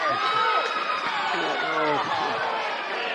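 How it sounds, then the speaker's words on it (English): Crowd at a varsity high school basketball game between Kirk Academy and Marshall voicing loud, sustained disapproval that fills the gym, while a voice talks over the noise. "Crowd really doesn't like that."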